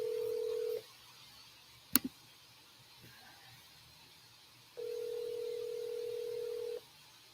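A telephone ring tone from an incoming call to a live call-in program sounds as two long, steady electronic tones separated by a long quiet gap, with a brief click between them.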